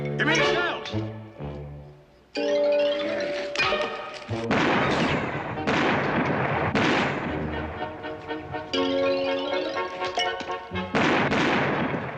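Gunfire from people shooting in a Western TV episode, with several loud sharp bangs and booms at irregular intervals, heard under dramatic orchestral music and voices.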